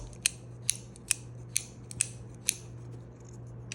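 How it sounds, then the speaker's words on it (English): An Olight Oknife U1 axis-lock utility knife is flicked open and shut with its thumb stud, six crisp metallic clicks spaced about half a second apart, close and loud against a low steady hum. "deploy it with a thumb stud, in, out"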